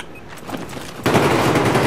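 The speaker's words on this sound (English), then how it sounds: "There's someone shooting at me from lower" Sustained gunfire erupts partway through a Battlefield 4 5v5 competitive match, a loud dense burst of automatic shots following quieter background game noise.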